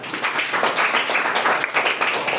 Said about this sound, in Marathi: टाळ्या वाजून पुन्हा एकदा